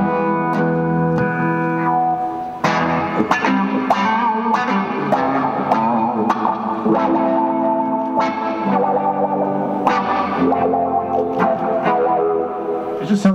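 Electric guitar played through a VOX wah-wah pedal into a VOX AC amp, giving a warm, vocal-like sweep over chords and single notes; a loud, continuous phrase with distorted, echoing tone and no talk.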